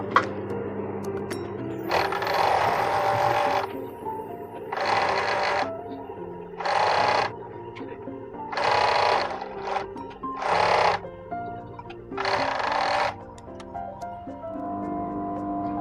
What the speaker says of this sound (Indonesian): Sekalian kita akan mengobras juga bagian bawah rok.